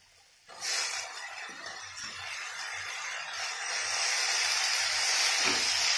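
Fresh spinach drops into a pan of frying eggplant, and a sudden burst of hissing sizzle rises and holds steady, growing slightly louder, with a few soft clunks of stirring underneath.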